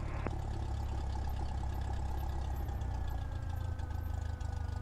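A Cessna 172 piston engine idles while the plane taxis at Camden Aerodrome, a steady loud low drone with a faint rhythmic knock and a slight pitch drift, with no break throughout.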